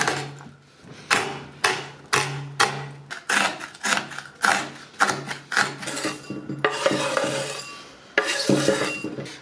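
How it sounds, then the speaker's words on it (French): Activated charcoal being crushed into small pieces for a cactus fertilizer mix, a series of rhythmic grinding and clinking strokes, close and fairly loud, repeating roughly every half second to second with brief pauses. "là on va le pulvériser en petits bouts et on va le rajouter à notre fertilisant"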